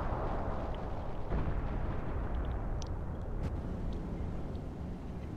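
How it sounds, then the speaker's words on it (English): Artillery gun firing in Company of Heroes 2 amid a heavy rumbling battlefield, a dense continuous low boom with a few faint sharp cracks layered over it. "I shot an artillery gun."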